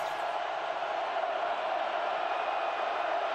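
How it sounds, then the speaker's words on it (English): A college football stadium crowd roars in a steady, distant wash of cheering during USC at Oregon in 2007, with a broadcaster's voice faintly present. "Listen to the crowd. They are involved."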